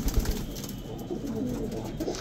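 Gardaan pigeons from Amroha cooing softly in close, low murmuring coos over a short stretch, with no talk.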